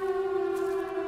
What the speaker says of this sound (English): The siren's gone off